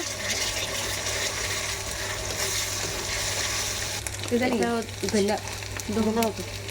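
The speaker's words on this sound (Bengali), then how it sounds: "পেঁয়াজ দিয়ে দিয়েছে, কাঁচামরিচ, এই তো তেল দেওয়া হচ্ছে" Onions and green chilies frying in oil in a home kitchen, a steady close sizzle that runs throughout, with a voice talking over the second half.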